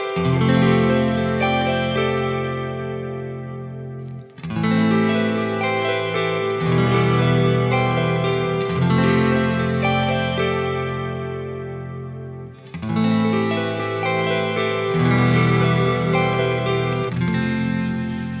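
Sustained strummed guitar chords ring over a repeating melodic loop, processed with effects and held in long phrases that change every few seconds; no voices.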